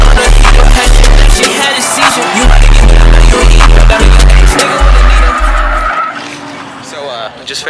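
Tires squeal and skid as a car drifts at a drifting event, the loud engine roaring in repeated pulses and cutting off near the end.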